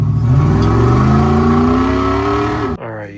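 Ratrod off-road car engine revving hard and close, pitch climbing steadily under full throttle before cutting off abruptly near the end, followed by a brief lower rumble.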